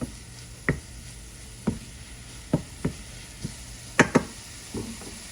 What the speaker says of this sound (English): So we are going to toast up the spices.